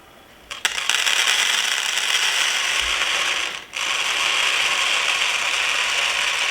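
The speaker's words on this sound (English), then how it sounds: "the beans are so easy to dispense" Dried beans pour from a kitchen pantry dispenser after a quick ratcheting turn, making a steady, close rushing rattle that pauses briefly and then continues evenly, with no talking.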